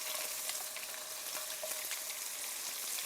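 Salmon sliders fry in melted butter in a pan on the stove, giving a steady, faint crackling sizzle with small pops throughout.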